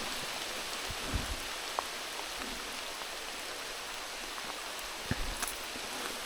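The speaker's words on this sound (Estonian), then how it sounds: "nüüd hakkas korralikult vihma sadama." Steady rain falling outdoors during a fishing day, heard as a dense, even hiss with scattered louder drops hitting nearby surfaces, close and continuous, with no voices.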